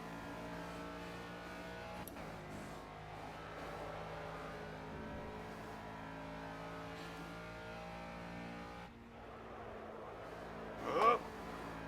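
Ginetta G40 race car engine in the Project Cars racing game, a steady droning hum held at a constant pitch throughout, with a brief sharper burst of noise near the end.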